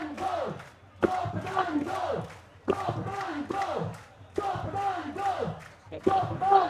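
A large protest crowd at Jantar Mantar, Delhi, chants a rhythmic slogan in unison, with shouted bursts repeating roughly every one and a half seconds, loud and close amid general crowd noise.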